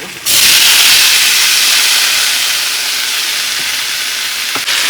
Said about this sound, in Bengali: এবার তেলে ভাজা করে